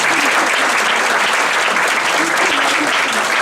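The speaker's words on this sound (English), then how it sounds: "but a big round of applause for him" Applause fills a school board meeting room, a crowd clapping steadily and densely for several seconds without a break.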